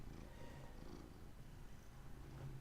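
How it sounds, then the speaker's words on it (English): Cat purring on a person's lap indoors, a soft continuous low rumble with slight rhythmic pulsing, very close but faint, with no talking over it. "You hear purring?"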